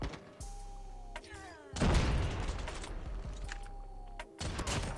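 Kilo Bolt Action rifle shots in COD Mobile ring out as a few loud, sharp cracks with booming tails, spaced apart over ambient game sound, with quieter mechanical clicks between them.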